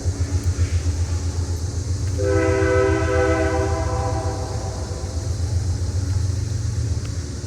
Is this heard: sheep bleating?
no